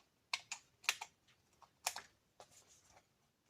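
Paper for a scrapbook album cover is snipped in a handful of crisp, close cuts, sharp ticking clips in small uneven clusters separated by brief quiet, with no voices.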